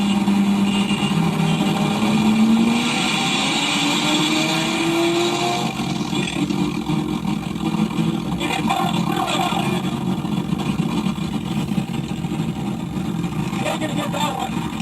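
Turbocharged cars race side by side, engines roaring loud and close with a rising, straining pitch as one pulls alongside the other. Wind buffeting and voices mix in underneath.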